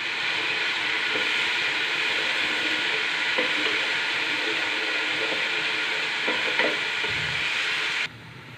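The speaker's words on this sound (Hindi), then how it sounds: "और इसको साथ साथ हिलाएंगे। हम इसको 1 से 2 मिनट जो है वो पकाएंगे" Garlic paste stirred and frying in a pan for chana pulao: a steady, close, loud sizzle with faint scraping from stirring, holding without talk before cutting off abruptly near the end.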